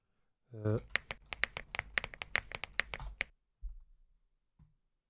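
Rapid clicky keystrokes on a computer keyboard, a fast burst of a dozen or so close sharp taps, preceded by a brief vocal sound and followed by a couple of softer thuds.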